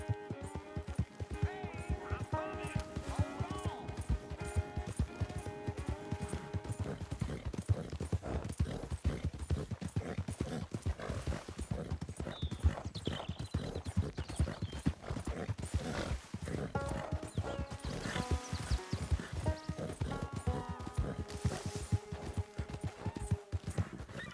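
Horse hooves clip-clop in a steady, quick rhythm for a long stretch in Red Dead Redemption 2, with an occasional whinny and soft game-like background tones.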